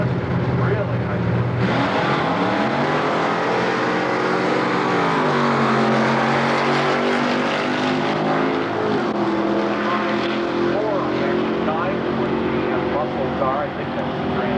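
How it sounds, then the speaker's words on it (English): Pontiac Grand Am launching down the strip at Milan Dragway during the 1992 High School Nationals, a loud sustained engine roar rising through gears as it pulls away, with an announcer talking over it. "Car, I think that's the Grand Am."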